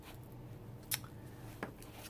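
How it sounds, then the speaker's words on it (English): Two quiet, crisp snips of pinking shears cut through plastic close by, spaced apart against a faint background hum. "I'm gonna use these pinking shears because I'd rather use pinking shears to cut this plastic"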